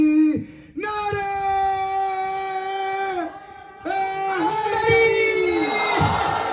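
A crowd at a majlis roars back a religious slogan in unison, long sustained voiced shouts swelling in two waves with a brief dip between, loud and close, then breaking into a rougher mass of voices.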